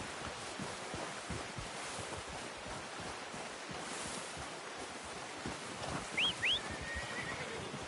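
A horse in the video game Red Dead Redemption 2 stands over a soft, steady ambient wash with faint hoof thuds. Near the end it gives two short, sharp whinnies close by.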